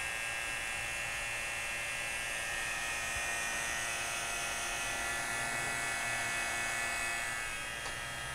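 A refrigeration vacuum pump, evacuating a Maytag refrigerator during a compressor replacement, gives a steady mechanical motor hum with a high, buzzing whine, continuous at moderate volume, unchanging throughout.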